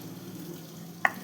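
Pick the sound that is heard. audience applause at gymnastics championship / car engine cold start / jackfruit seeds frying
jackfruit seeds frying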